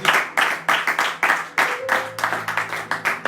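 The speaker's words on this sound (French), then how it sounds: "Nous acclamons le Seigneur Jésus." A church congregation claps in rhythmic bursts of applause praising the Lord Jesus, loud and close with some voices mixed in.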